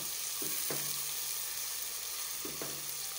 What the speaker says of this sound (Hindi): इसको भी अच्छी तरह से इसके अंदर हम सॉटे कर लेंगे